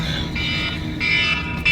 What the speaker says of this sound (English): Is that my alarm?